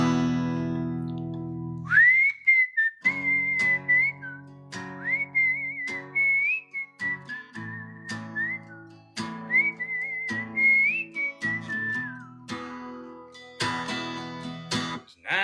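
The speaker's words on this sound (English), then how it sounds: "You might hear the whistle trying to figure itself out in just a second." A person whistles a song melody on a radio show, a sustained, wavering tune carried in long phrases with brief breaths between them, close and clear over quieter lower sounds.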